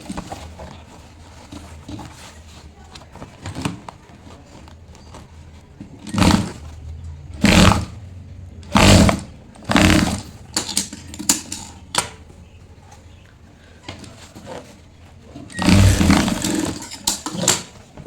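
Sewing machine stitching through a thick, heavy bag, with bursts of rapid mechanical clatter, several short runs spaced a second or so apart, then a longer run near the end.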